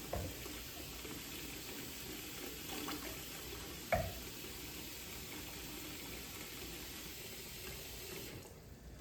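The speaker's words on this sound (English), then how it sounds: "now that we have a good amount of water in our 5-gallon bucket" Water runs steadily from a tap into a 5-gallon bucket during aquarium cleanup, a continuous broadband rush with one brief knock near the middle, close and alone with no talking.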